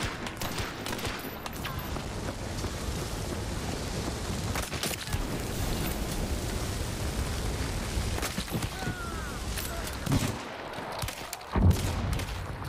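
Gunfire in the video game Hunt: Showdown comes as scattered muffled shots and bursts over a steady background rumble, with a few sharper cracks near the end.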